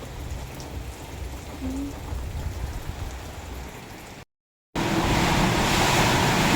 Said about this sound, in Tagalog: Sobrang lakas at mahangin po.